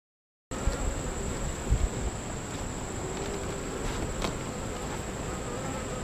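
Honeybees swarm and buzz around an open hive during a late July inspection, a dense steady drone filling the air at close range with a constant high whine, starting abruptly after a brief silence.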